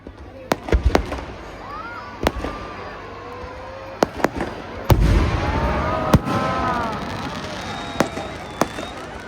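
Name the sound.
fireworks display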